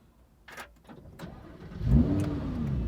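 A car engine cranks and catches, then settles into a loud, close, rumbling idle with a throaty rise in revs, following a few quieter mechanical clicks and thumps at the start.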